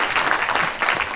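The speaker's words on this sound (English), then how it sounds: "so big applause for that" Audience applause at a film screening event in Los Angeles: a brief, dense wash of clapping, steady and moderately loud.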